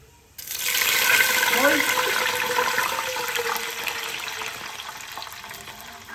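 Chickpea cooking water pours into a pot for biryani rice in one steady, fairly close stream that starts abruptly and runs for several seconds, with no one talking.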